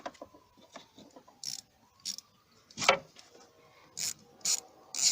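A 1/4 inch ratchet on two extensions works loose 10mm thermostat housing bolts on a 2010 Chevy Malibu 2.4L engine, giving close, short bursts of clicking and scraping metal with quiet pauses between them.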